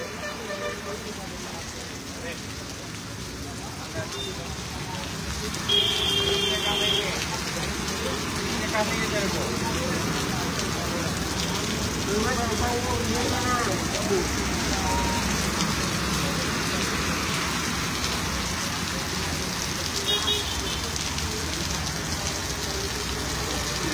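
Heavy rain falls at night over Vadodara city, a steady dense hiss that holds loud and unbroken throughout, with a faint voice now and then beneath it.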